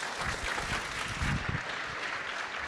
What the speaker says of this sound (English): Can you all give them a great big round of applause?